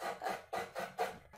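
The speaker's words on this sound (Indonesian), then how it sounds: "yang sedang bekerja. Ada yang amplas gitu." Sanding in a workshop gives a run of rhythmic rasping strokes, about six back-and-forth passes at a brisk, even pace, heard fairly quietly with no talk.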